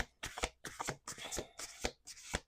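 Cards shuffled up close in five or six crisp riffling bursts with brief pauses between, no talking.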